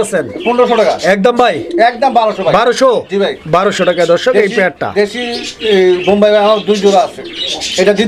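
A pair of colored Rajgolla pigeons cooing close by, repeated throaty coos overlapping in a steady series, with a voice talking over them for much of the time.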